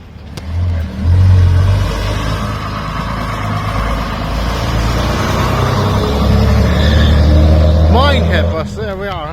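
Vintage Minehead bus pulling away along Whaddon Road, a loud low engine rumble that builds and holds as it moves off, with a voice speaking briefly near the end.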